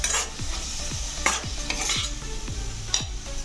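Chili powder, cumin and spices frying in a pan for moong dal, stirred with a spatula: regular scraping strokes about twice a second over a steady sizzle, close and with no talk.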